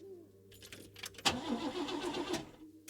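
In the video game Lorelei and the Laser Eyes, a car's starter is cranked and the engine fails to catch, giving a faint key rattle and then a churning, sputtering turnover for about a second before it cuts out.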